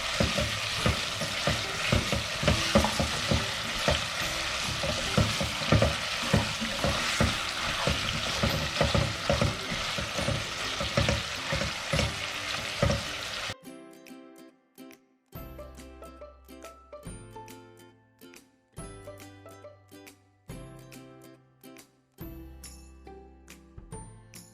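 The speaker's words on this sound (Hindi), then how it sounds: "अब मैं इसमें डालूँगा अदरक लहसुन और इसको 2 मिनट और भूनूँगा अदरक लहसुन के साथ" Ginger and garlic frying with mutton in a karahi, a steady loud sizzle with rhythmic stirring scrapes for about half the time, then quieter sizzling broken by metallic clinks and pauses.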